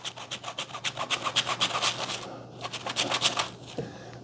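Stain remover is rubbed into fabric by hand, a close, soft rhythmic scrubbing of quick strokes that pauses briefly before resuming.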